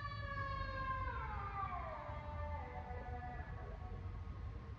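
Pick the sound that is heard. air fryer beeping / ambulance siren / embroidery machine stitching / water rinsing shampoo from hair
ambulance siren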